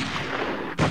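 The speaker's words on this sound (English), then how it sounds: "Multiple gunshots" A gunfire sound effect from the party video game Earwax: a loud rumbling blast with a sharper crack near the end, heard alone and close.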